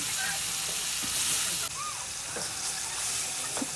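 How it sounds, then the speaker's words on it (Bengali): Loud, bright sizzling and crackling of spices hitting hot oil in a wok, a continuous close hiss with a few faint chirpy tones underneath. "এরপর মশলাটি দিয়ে দিলাম কড়াইতে, কারণ এটিরে ভালো করে ভাজতে দেব।"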